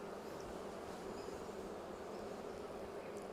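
Honey bees massed on a hive frame, a continuous low droning hum of many wings, steady and fairly faint throughout with no talking.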